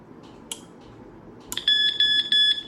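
A few soft taps, then a Nextion HMI display project sounds a loud, rapid electronic beeping in a steady repeating pattern when its set and total counters match.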